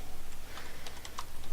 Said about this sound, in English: Typing in the wrong box.